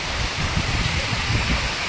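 Heavy rain falling in a steady, dense wash of hiss with faint low rumbles, close and continuous.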